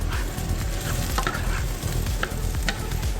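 Mushrooms cook in a skillet, giving off liquid with a loud, continuous close sizzle, broken by occasional scraping stirs and light clinks of the utensil against the pan, with no voices.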